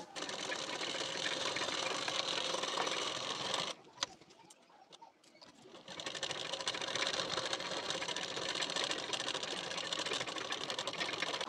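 A sewing machine stitches a folded waistband strip onto a blouse, running as a fast steady whir, stopping for about two seconds with a few soft clicks, then starting again and running on evenly to the end.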